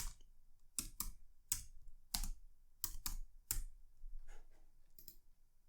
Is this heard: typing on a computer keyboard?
yes